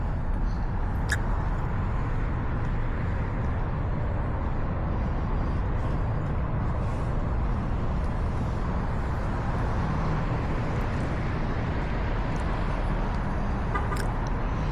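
A Tesla Model X creeps across a parking lot on Smart Summon, a steady low broadband rumble of traffic-like road noise running evenly throughout with no distinct voices.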